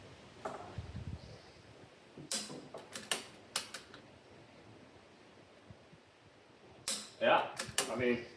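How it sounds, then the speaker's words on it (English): A rifle resting on a Spex-lite Code 3 shooting bag is dry fired, giving sharp mechanical clicks and bolt clacks in irregular bursts, close by, with quiet gaps between them. "Let's try shooting off of it, dry firing rather"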